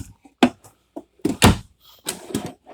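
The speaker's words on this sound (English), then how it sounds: "A little silverware drawer with a sliding tray." A small silverware drawer with a sliding tray in a 2021 Anthem 44W RV, heard as a few quick wooden thunks and sliding knocks, close and moderately loud, with short pauses between.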